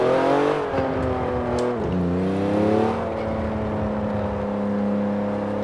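An all-wheel-drive Porsche 911 Turbo S at full throttle on a highway, its engine note climbing in pitch, dipping at a quick gear change, then rising again, close and steady with no talk.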